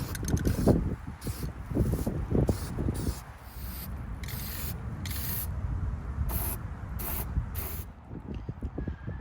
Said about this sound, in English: I'm about to paint it so that all the exposed raw metal will be covered with a high temp spray paint.